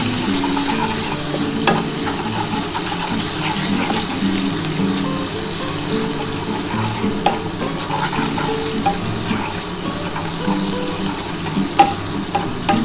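Turmeric and salt sizzling in hot oil while cooking a capsicum egg curry, a steady broadband frying hiss running throughout with occasional sharper crackles and faint stirring scrapes.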